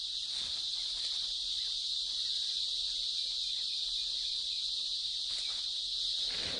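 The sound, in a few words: cicadas singing in chorus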